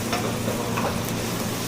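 Raw chicken curry roasting in a pan in a bachelor room kitchen, with a continuous close sizzle and frying hiss and soft scrapes of stirring throughout.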